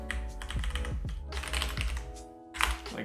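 Loud computer keyboard typing clatters in quick, irregular bursts of keystrokes close to the microphone, over a steady low background hum, with no talking.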